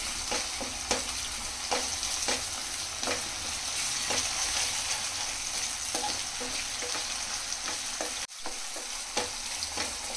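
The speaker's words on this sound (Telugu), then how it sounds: "1 టేబుల్ స్పూన్ అల్లం వెల్లిపాయ పేస్ట్ ఇది వేసుకొని కొంచెం వేపుకుందాం." Ginger-garlic paste fries with onions and turmeric in a pan for an egg keema curry. A steady, loud sizzle runs throughout, broken by light scrapes and taps of stirring.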